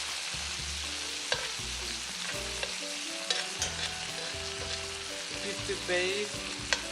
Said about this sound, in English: So once we've already flipped them once, we're going to go ahead and turn the pan, and then we're going to go ahead and baste